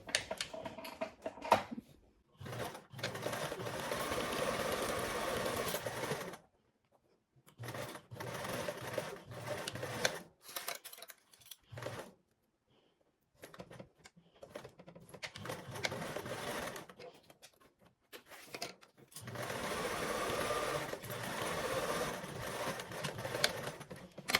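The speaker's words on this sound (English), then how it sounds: "we're going to sew these with a 1/4 seam allowance" A sewing machine stitches fabric panels along a quarter-inch seam allowance in quiet bursts of fast even whirring, stopping and starting several times with short silent gaps and no voices.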